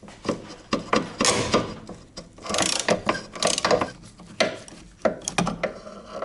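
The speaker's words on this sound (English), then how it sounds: "I would suggest using an extension and make sure that the socket is all the way on the head of the bolt" A socket wrench with an extension ratchets on a rear brake caliper bolt of a Mazda MX-5 Miata NA/NB, giving repeated close bursts of rapid clicking in an irregular rhythm with short pauses between strokes.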